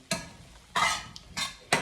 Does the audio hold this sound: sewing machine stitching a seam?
no